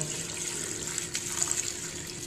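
Tap water runs steadily into a sink while sushi rice is rinsed, a close, continuous splashing flow with small bursts of spatter toward the end.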